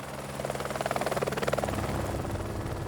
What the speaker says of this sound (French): un bruit d'hélicoptère monte de la vallée